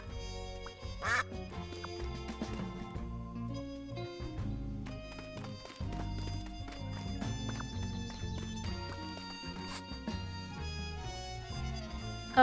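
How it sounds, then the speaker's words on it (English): Ducks quack repeatedly over a dense, continuous bed of music, staying loud and busy from start to finish with no pauses. "Ducks quack 200 times a day on average."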